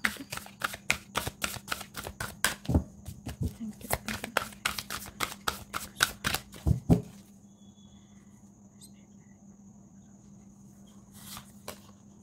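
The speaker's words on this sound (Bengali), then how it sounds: "এখান থেকে 3টে কার্ড নেব আপনার এনার্জির জন্য" Tarot cards being shuffled by hand for about seven seconds in rapid, crisp riffling bursts close to the listener, followed by quieter handling and a few faint card sounds near the end.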